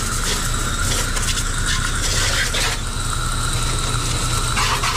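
An old motorcycle engine, about twelve years in use, idles close by with a steady low rumble and a rattling mechanical chatter, running alone without talk.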